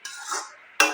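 A spatula moves refined oil around inside a metal karahi. Two brief metallic scraping strokes are separated by a short silence, close and fairly soft, with no talking.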